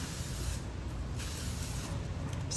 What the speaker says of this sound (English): I'm gonna go in again with my medium hold hairspray